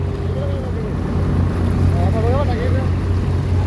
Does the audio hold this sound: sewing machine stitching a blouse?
no